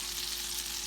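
Sausages sautéing in a cast iron skillet, a faint, even sizzle with a soft crackling hiss that holds steady through one short moment, heard alone without talk.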